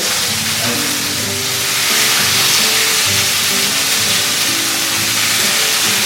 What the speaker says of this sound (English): All right, now I'm going to flip the chicken.